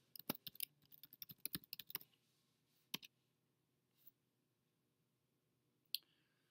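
Keys tapped on a computer keyboard while entering a password: a quick burst of sharp, close clicks for about two seconds, then a few isolated keystrokes spaced out over quiet room tone.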